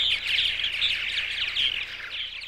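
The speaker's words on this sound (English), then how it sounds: "The purple martins perch and rest for the night on the oil refinery pipes, where they benefit from the emanating heat." Purple martins roosting on oil refinery pipes, a dense continuous chorus of high chirps and twitters from many birds, fairly loud and unbroken.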